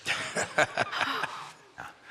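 A growling creature sound effect in an underground fungus-lined cave of a Dungeons & Dragons actual-play game: a series of rough, snarling bursts close up and fairly loud, with short gaps between them, then a final brief growl.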